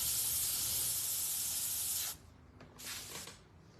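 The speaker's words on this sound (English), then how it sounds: "I use the Iwata Eclipse airbrush gun to do all my airbrush projects" An Iwata Eclipse airbrush sprays paint in a steady, close hiss for about two seconds, then stops and gives a second shorter burst after a brief pause.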